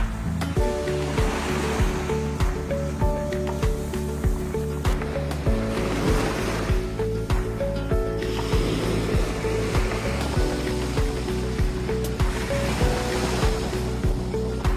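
Sea waves wash onto a sandy beach in a steady, loud rolling surf, breaking repeatedly with wind mixed in and no talking.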